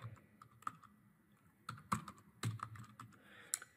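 Computer keyboard typing while a report cover page is filled in: bursts of quick, close key clicks, with a few sharper louder strikes and short pauses between runs, no talking.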